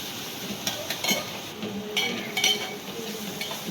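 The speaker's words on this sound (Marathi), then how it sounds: "कांदा टॉमॅटो चांगलं व्यवस्थित फ्राय करून घ्यायचं" Onion and tomato frying in a pan with turmeric and chilli, a steady low sizzle broken by scattered clinks and scrapes of a spoon stirring against the metal, close and moderately quiet.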